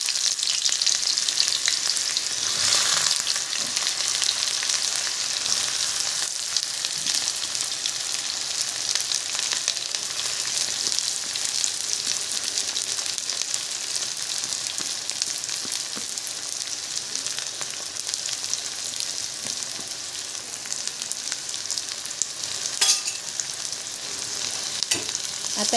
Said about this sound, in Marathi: कढईमध्ये तेल ठेवलेलं आहे, ते तापलेलं आहे। आपण कांदा टाकूया।